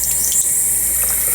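Tap water pours steadily into a sink, a continuous close splashing hiss with no voices.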